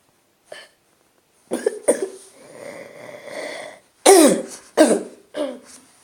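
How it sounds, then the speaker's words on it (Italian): A person coughs several times in separate bursts: a short one early, a rougher spell in the middle, then three sharp, close coughs near the end, with quiet gaps between. "E con questo tossicamento dolce chiudo qua il video."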